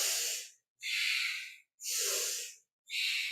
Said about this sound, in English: So we have active inhales and exhales here.